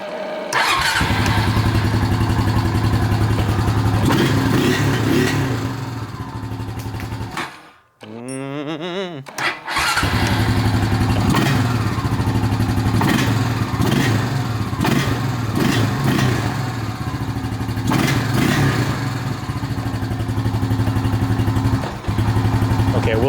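A Honda Rancher 350 quad idles loud and close with a steady, lumpy rumble. The engine cuts out for about two seconds, then picks up again and runs unevenly, as if it wants to stall.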